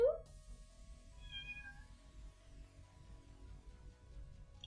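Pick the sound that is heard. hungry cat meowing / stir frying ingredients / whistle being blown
hungry cat meowing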